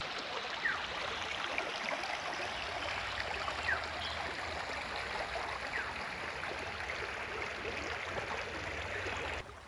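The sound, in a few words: river water flowing, Satguru river at Keshra, Purulia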